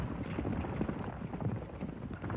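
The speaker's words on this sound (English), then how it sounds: "There's his horse" Horse hooves clip-clopping in an old 1934 western serial, a quiet, irregular patter of hoofbeats under faint wind-like background noise, with no talk.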